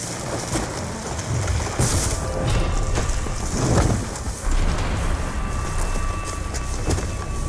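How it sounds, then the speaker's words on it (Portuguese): Steady heavy rain in the Call of Duty Black Ops 2 video game, a dense continuous wash of hiss with some low rumbling swells, loud and close throughout. "Chovendo ainda."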